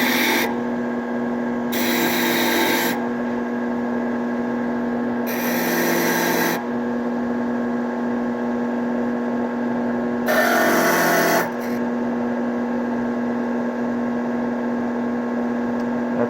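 Power steel brush grinding against powder-coated parts for an aircraft build, three bursts of harsh abrasive scrubbing lasting one to two seconds each, over a constant electric motor hum.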